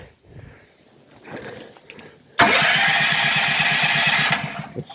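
A Duramax 8500 dual fuel generator cranks and fires up partway through, then settles into a loud, steady, close mechanical drone after some quiet handling noise.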